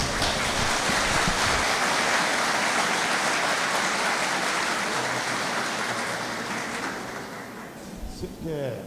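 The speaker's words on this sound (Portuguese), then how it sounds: "Vamos recebê-lo com uma salva de palmas." An audience at a Spiritist lecture gives a long, dense round of applause welcoming a speaker to the stage, steady and loud before thinning out near the end, where talk begins.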